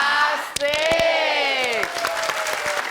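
A studio audience at a lively Indonesian TV variety show claps steadily under excited cheering and whooping voices, with a sharp clap or thud cutting through near the start.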